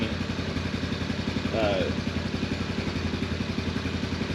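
Motorcycle engine idling steadily nearby, an even rhythmic chug throughout, with someone talking over it.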